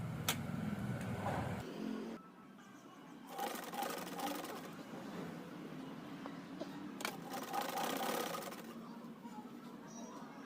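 A sewing machine stitches the belt of a saree, its motor whirring in steady bursts with short pauses between runs of stitching, close and moderately loud.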